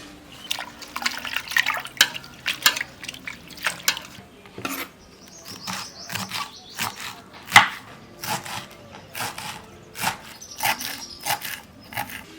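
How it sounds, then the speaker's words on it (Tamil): Water runs and splashes steadily while a bunch of coriander leaves is rinsed. Dripping and light knocks come through, with no talk. "அரைக்கட்டு கொத்தமல்லி தலையை கழுவிட்டு கட் பண்ணிக்கலாம்."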